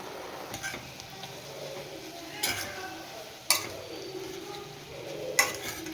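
Carrot halwa with milk and cardamom powder being stirred in a pot, soft scraping strokes with a few sharper utensil knocks against the pan, close and fairly quiet.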